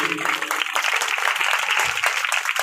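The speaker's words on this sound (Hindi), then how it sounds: "जोरदार तालियां बजाइए" Applause from the audience at the closing day of a Shrimad Bhagwat Katha gathering in Tikri Khurd, a dense, steady wash of clapping that fills the short stretch without pause.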